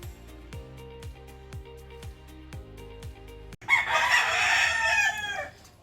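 A farmyard of fighting cocks, hens and a rooster, with a run of repeated rhythmic sounds followed by a loud, close rooster crow lasting about two seconds. Nobody speaks.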